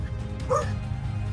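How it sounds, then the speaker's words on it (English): A pet dog named Bunny gives a single short bark nearby, sharp and brief over a low background hum during a tabletop game session. "Sorry for the dog"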